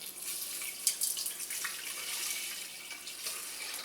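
Tap water runs into a cup being filled for cooking rice, a steady splashing hiss with a few brief spikes, close by and without talk.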